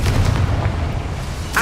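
A Confringo blasting curse explodes in the Hogwarts Legacy video game: a short, heavy booming blast with deep rumble, loud and close, fading quickly within under two seconds.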